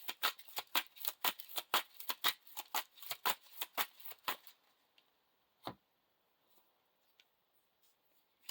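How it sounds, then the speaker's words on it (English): A deck of game cards is riffle-shuffled at a card table, a rapid run of crisp, close riffling bursts for several seconds, then a single tap and near silence with faint small knocks. "shuffle the encounter discard pile into the encounter deck"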